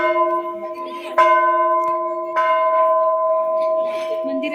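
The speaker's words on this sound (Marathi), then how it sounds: "घंटा" A temple bell rings with a sustained, resonant tone, struck again about a second in and once more midway, each strike swelling the lingering hum.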